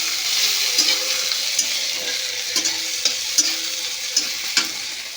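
Chopped tomato being stirred into frying onions in a pan, with a steady sizzle underneath and repeated scraping strokes of the spoon at an irregular rhythm, close and clear.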